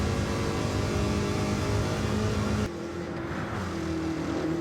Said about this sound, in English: Man, the sound of the engine, this car is great.